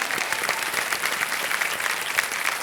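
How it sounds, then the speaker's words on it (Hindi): A studio audience on a TV quiz show claps steadily, a dense, even wash of applause that continues unbroken throughout. "तालियों"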